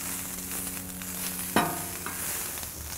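Onions softening over medium heat on the center of a Blackstone griddle, a steady low sizzle with scraping and stirring, one sharp clack of a spatula midway, no talk.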